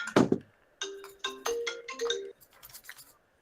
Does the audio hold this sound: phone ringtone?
yes